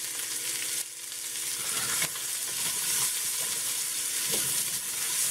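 Chopped onions frying and being stirred into browned pork for Hatch green chili, a steady broadband sizzle holding throughout with occasional scrapes of stirring, close and fairly loud with no talking.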